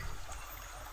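Spring water flows and trickles steadily on a farm, a soft, continuous burble heard faintly and alone.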